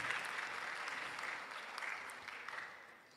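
Steady applause from an audience at a physician assistants' induction ceremony in Ghana, a continuous patter of clapping at moderate volume that fades slightly toward the end.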